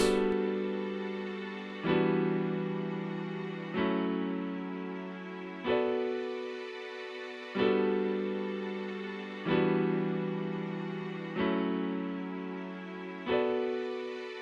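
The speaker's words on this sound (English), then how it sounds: "So layered together, the piano and the strings sound like this." Grand piano chords layered with FL Studio FLEX strings in an R&B beat, struck about every two seconds, each sustained chord ringing and fading before the next, loud and unaccompanied by any voice.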